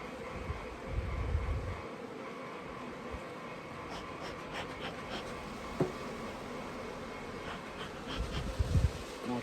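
Honey bees buzz steadily around an open hive with two queen cells in an F3o single, a dense drone with louder swells near the start and end, as if bees pass close, and no talk.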